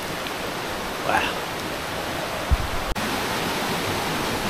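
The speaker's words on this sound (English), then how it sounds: "It's the top end of the waterfall. Waterfall goes down right there." Steady broadband rush of water at the top of a waterfall on a jungle hike in Cockscomb Basin Wildlife Sanctuary, Belize, a constant wash with a brief thump and faint voice partway through.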